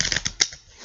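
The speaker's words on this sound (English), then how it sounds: "watch me shuffle the cards" A brief, quick burst of tarot card riffling: a few crisp snapping flicks close by, then fading to quiet.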